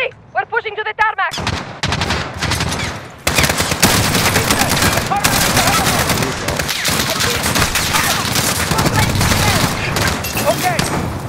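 Call of Duty Modern Warfare gunfire: dense, loud rapid bursts of automatic weapons fire with scattered booms, continuing nearly without pause, while voices shout in the middle of the battle.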